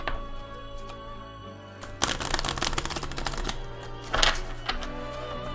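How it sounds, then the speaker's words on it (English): A tarot card deck riffled in repeated bridge shuffles close to the microphone, with a quiet lead-in, then a dense burst of crisp clicking riffle and a second flurry ending in a meaty card slap. "We'll do a couple of these bridge shuffles. Hear that big meaty card slap on mic."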